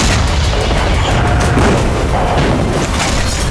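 Deep, rumbling booms from multiple explosions in Saratov near the Engels airbase during a drone attack, heard as a continuous low roar with dense noise throughout.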